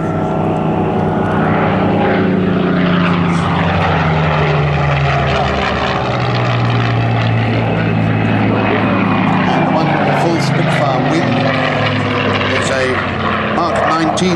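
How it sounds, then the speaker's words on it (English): A late-mark WWII Spitfire propeller fighter flies in at the 2004 Duxford airshow, its loud, continuous engine drone filling the whole stretch beneath an announcer's commentary. "This actual aircraft, the one coming in from the left at the moment."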